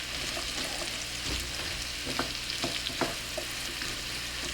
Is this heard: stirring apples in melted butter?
yes